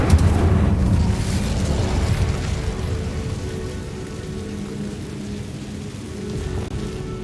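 A fire spell cast in the Hogwarts Legacy video game, heard as a loud, sustained roaring rush of flame that swells at the start and rumbles steadily for several seconds, dense and crackling with no talk over it.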